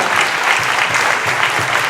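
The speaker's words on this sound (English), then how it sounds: "So will you please clap for all the young people of our nation." Loud, close applause from a symposium audience at Felabration 2019 in Nigeria, clapping for the nation's young people, a thick continuous burst of many hands with no speech.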